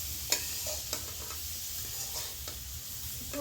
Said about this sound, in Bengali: এই যে এরকম হালকা একটু ভাজা দিচ্ছি, বেশি ভাজলে আবার পুড়ে যাবে।